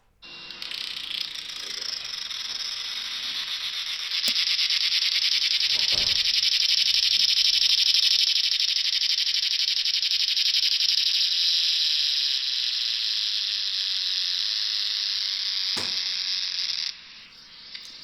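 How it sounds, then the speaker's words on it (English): Cicadas buzz in a loud, steady, dense drone that swells after a few seconds, holds for a long stretch, then cuts off abruptly, with no talking. "This is the sound of a cicada."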